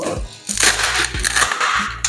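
A fiberglass polyester sheet is bent and broken by hand, giving a series of loud cracking, crunching snaps in quick succession, close up and with no talking.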